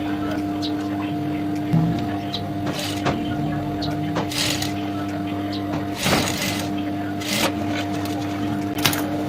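A sewing machine stitches a handbag's lining in a steady, close mechanical whir, with a few louder bursts of stitching along the way.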